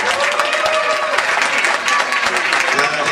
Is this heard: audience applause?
yes